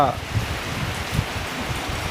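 Storm rain in southern Isan, Thailand, falls as a steady, dense hiss with soft patter, moderately loud and continuous throughout, with no clear voices.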